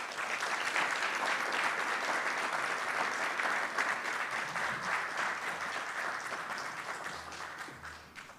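An audience applauds at a climate resilience fund launch event, many hands clapping in a steady, even wash that holds for several seconds and fades slightly near the end.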